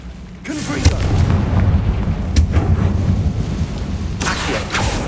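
Fire blast spell Confringo cast in Hogwarts Legacy on PS5: a sudden whoosh erupts into a heavy booming roar that rumbles on, with a second sharp crack midway and another burst near the end.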